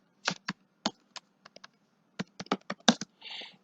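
Typing on a computer keyboard into Notepad, with sparse, close keystrokes in short uneven bursts with pauses, ending in a brief softer rustle.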